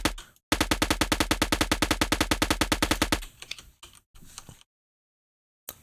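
Rapid, evenly spaced automatic gunfire from a gun in a prototype shooter video game, a long loud burst of about thirty shots, followed by a few scattered shorter sounds and then silence.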